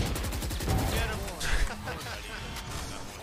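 Rapid gunfire from the tactical shooter game Valorant rattles in dense overlapping bursts, loud and close, with a voice talking over the shooting.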